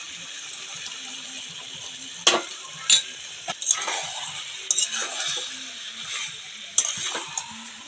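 Prawns go into a pan of green jackfruit and potato cooked down in spices, giving a soft hiss with a few clinks and scrapes of a utensil against the pot, close by and fairly quiet.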